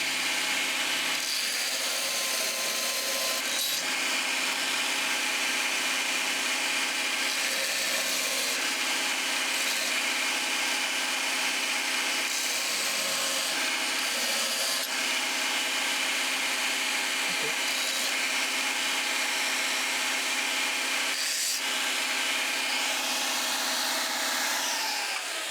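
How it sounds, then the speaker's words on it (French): A farrier's grinder works down a hoof pad on a flat hind hoof, giving a continuous loud abrasive whine with slight shifts in pitch as the tool is pressed and moved, close and steady throughout with no talk. "Donc là, je viens meuler et je garde mon 2 mm là."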